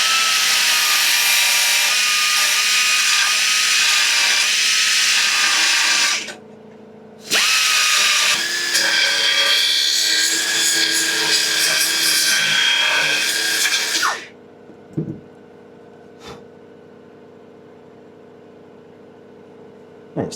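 Power tool grinding back a rusty car body repair panel to clean metal, a loud close abrasive whine in two long bursts split by a brief pause, then quiet with faint knocks.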